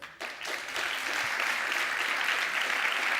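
Audience applause fills the room, starting after a brief pause and holding steady and dense as a sustained wash of clapping from many hands.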